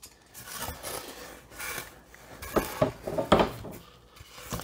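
Foam is carved by hand for an ice chest, heard as close, quiet scraping and rasping strokes in short irregular bursts.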